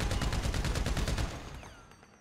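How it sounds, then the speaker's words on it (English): Combat MG machine gun in GTA V at the Ammu-Nation shooting range, firing a fast, loud, even burst of rapid shots for about a second and a half, then ringing out and fading. "Let's go for the combat MG"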